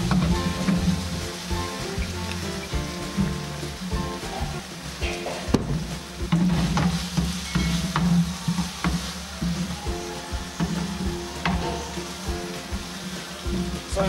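Tomatoes are stirred in barbecue sauce in a hot pan, giving a continuous sizzle with scraping and wet stirring sounds over faint background music, close up and without speech.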